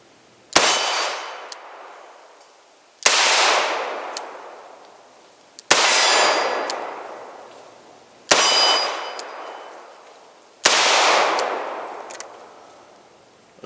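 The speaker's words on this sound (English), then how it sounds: "just after those were my first 5 shots through it" Five loud revolver shots from a Smith & Wesson 437 Airweight firing 158-grain lead round-nose rounds, each sharp crack followed by a long ringing decay, spaced evenly about two and a half seconds apart with no talking.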